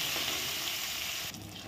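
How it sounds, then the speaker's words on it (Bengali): Long strips of eggplant fry in hot oil, giving a continuous close sizzle and crackle that stays steady, with a slight change in tone near the end. "এখন লম্বা লম্বা করে বেগুনগুলো ভেজে নিচ্ছি।"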